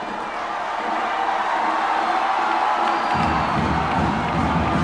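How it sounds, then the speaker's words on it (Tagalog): A basketball game crowd roars and cheers in a packed gym, a continuous loud wash of voices that swells stronger toward the end, with no single voice standing out. "this crowd growling and roaring"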